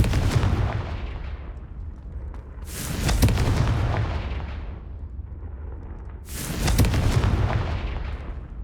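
Two Confringo blasting-spell explosions go off in Hogwarts Legacy, each a sudden loud burst with a crackling, booming tail, spaced a few seconds apart over a low continuous rumble.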